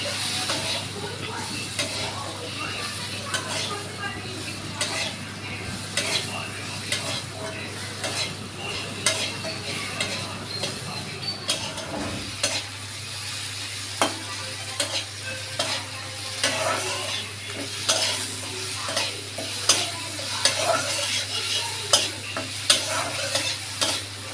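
Crab pieces with onion, garlic and green chili fry together in a pan, a continuous sizzling hiss with stirring scrapes and clatters growing busier in the second half, no speech.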